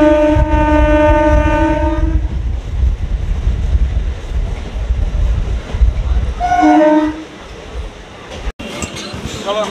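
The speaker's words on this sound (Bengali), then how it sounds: "সহজেই পেয়ে গেছে আমাদের ট্রেন দীঘা লোকাল" Digha local passenger train, the Howrah-side local serving the Mandarmani route via Panskura, gives a long loud horn blast and then a shorter one over a steady heavy rumble of moving carriages.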